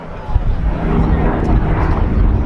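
A Hawker Hurricane fighter's piston engine at an airshow drones steadily at a distance, a broad continuous roar under a commentator's talk.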